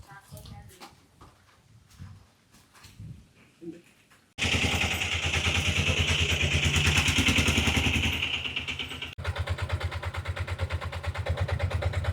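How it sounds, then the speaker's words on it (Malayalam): A motorcycle ridden by two riders on the way to a cinema, its engine running loud and steady with a rapid pulsing drone after a stretch of quieter speech and background noise. "ഞാനും അഭിനവും ബൈക്കിൽ വരാം"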